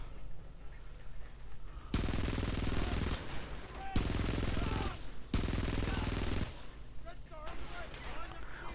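Bursts of automatic gunfire from a crouching player in the shooter game Frontlines: Fuel of War ring out in three loud sustained volleys, with quieter battlefield noise between them.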